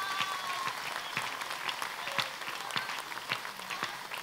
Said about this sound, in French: On acclame le Seigneur pour sa vie.